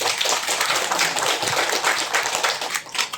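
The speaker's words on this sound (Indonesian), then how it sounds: "Tepuk tangan." An audience at a thanksgiving gathering in a hotel claps hands briskly and continuously, a close, bright patter with no talk over it.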